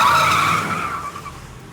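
Cartoon car screeches its tires as it skids off from a gas station after being stolen, a sharp loud squeal that trails away and fades within a couple of seconds.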